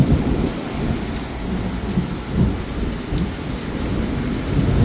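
Heavy rain pours steadily on surfaces during a thunderstorm in New York City's Chinatown, with low thunder rumbling continuously beneath the downpour and no voices.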